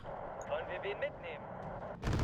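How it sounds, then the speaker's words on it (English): A Flak Panzer Gepard opens anti-aircraft fire in the video game Wargame: Red Dragon, a sudden loud rapid burst at the very end after quieter game sounds and talking. "We have the Flak Panzer Gepard shooting down the B5"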